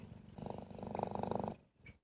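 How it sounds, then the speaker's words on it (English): A cheetah purring loudly and close, a steady rhythmic rumbling that pulses with each breath for about a second and a half before trailing off. "Purring just like your own pet cat."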